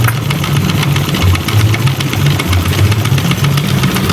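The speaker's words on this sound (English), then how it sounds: "this is just a view of this Stirling engine fan" A Stirling engine driving a fan runs steadily at close range, a low throbbing hum with a fast, even pulse and broad mechanical clatter layered on top, continuous throughout.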